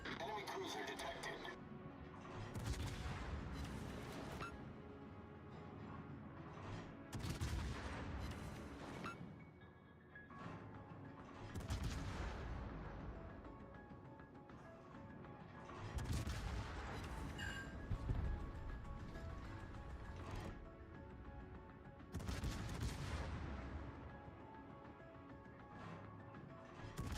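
Naval gunfire from a warship turret in World of Warships, repeated heavy booming salvos every few seconds with rumbling tails, mixed with game sounds and someone talking at times.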